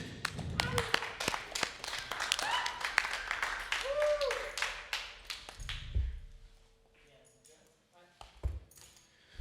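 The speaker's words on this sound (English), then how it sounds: "let's clap for ourselves" A few people on stage at a live studio music performance clap for themselves, a sparse burst of hand claps over music that fades out after a few seconds, followed by near-silence and scattered bumps.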